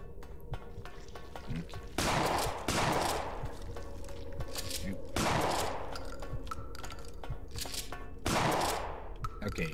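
Bursts of gunfire from a video game creature fight in Hidden Deep, coming in three loud volleys spaced a few seconds apart, each ringing out and decaying, with low background rumble between them.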